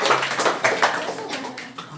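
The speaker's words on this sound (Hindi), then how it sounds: "बहुत बढ़िया, जोरदार ताली बजाने के लिए।" A classroom of students claps loudly together, a burst of overlapping hand claps in quick uneven rhythm, close and lively, with a voice speaking briefly among them.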